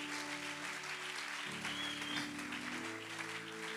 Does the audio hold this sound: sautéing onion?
no